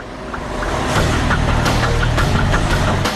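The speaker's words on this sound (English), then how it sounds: "Last on their checklist is the roller bench test" A Mercedes Actros truck runs on a factory roller test bench, giving a steady, loud low engine drone with a harmonic hum and a rising, whirring rumble throughout, with no talk.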